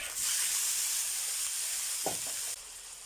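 Ground beef dropped into a pan of softened, translucent sautéed onions, a loud steady sizzle and hiss that swells at once, with a brief clatter midway before the frying cuts back.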